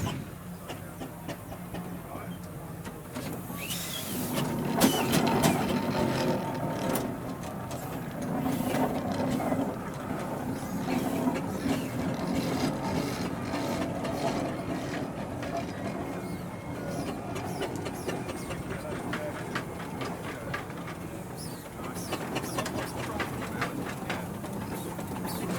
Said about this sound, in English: good single cylinder thrashing engine, this one known as Old Nick